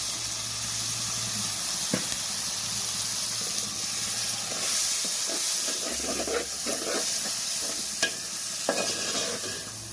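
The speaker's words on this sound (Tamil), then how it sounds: "இப்போ நம்ம இதை கூட சுத்தம் பண்ணி வச்சுருக்க இறாவை சேர்த்துக்கிறோம்." Prawns hit a pan of fried onions and sizzle steadily, with a continuous steamy hiss broken by occasional sharp scrapes and knocks of a utensil stirring close by. No one speaks.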